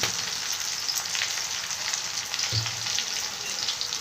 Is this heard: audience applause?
no